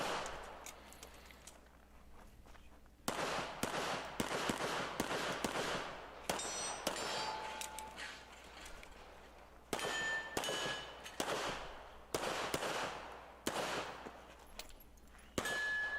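Rapid strings of pistol gunshots at an outdoor shooting match, each burst mixed with bright metallic clangs and rings of bullets hitting steel targets, loud and close, with short pauses between groups of shots.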